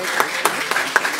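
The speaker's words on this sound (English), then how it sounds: "Let's give her a round of applause." Applause at a journalism awards ceremony in Namibia, a sparse, close clapping with several distinct sharp claps standing out over a soft background of other hands.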